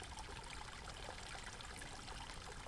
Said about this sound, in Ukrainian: Можна послухати також і мелодію струмка.